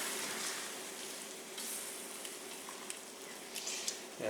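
Faint, steady sizzling and simmering as vegetable paella with white wine is stirred once in the pan, with a soft clink of the spoon near the end.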